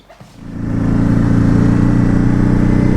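A 2019 Ducati Hypermotard 950 engine starting up, quickly settling into a loud, close, steady idle with a pulsing rumble, with no voices over it.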